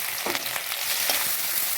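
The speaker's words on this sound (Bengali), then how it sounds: "ভেজে নেব লঙ্কাগুলো, পেঁয়াজগুলো ভেজে নেব ভালো করে" Chopped onion and green chillies fry in oil in a pan, a bright continuous sizzle close by with occasional crackles as the pieces are stirred.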